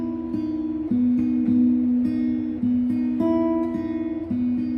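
Slow fingerpicked pattern on an acoustic guitar, evenly spaced plucked notes ringing into each other with a shifting bass note, close and unaccompanied.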